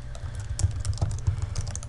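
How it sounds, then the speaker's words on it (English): Rapid, steady key clicks from typing on a computer keyboard in Microsoft Excel, close and clear with no voices. "I'm typing in Microsoft"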